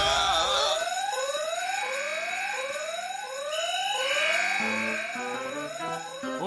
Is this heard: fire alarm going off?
yes